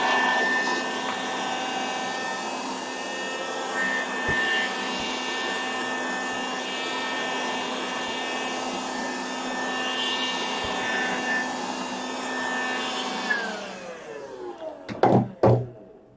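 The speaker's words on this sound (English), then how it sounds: "I have to bring out the vacuum cleaner again." A vacuum cleaner runs steadily with a constant whining drone in a home art studio, then cuts off near the end, followed by a few light knocks.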